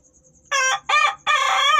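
Heritage Blue and Black Australorp roosters caged together on a bird farm at night crow loudly and close by, one call after another in three strong bursts that follow a quiet start.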